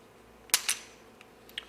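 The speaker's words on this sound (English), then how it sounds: "let me close the slides here" Two Ruger compact pistols, an LCP Max and an LCP2, have their slides snapped closed: two sharp metallic clacks in quick succession, near and fairly loud, followed by a couple of fainter small clicks in a quiet room.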